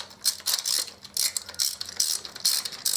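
Bolts and spacers being removed from a Harley Davidson Deuce trike during a trike conversion, heard as bursts of ratchet clicking, close, in a quick uneven rhythm with brief pauses.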